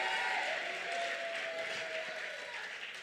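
Congregation clapping during a lively Spanish-language church service, a dense steady wash of applause throughout, fairly loud and continuous with a faint sustained tone underneath.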